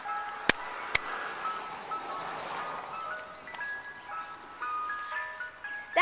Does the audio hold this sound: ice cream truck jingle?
yes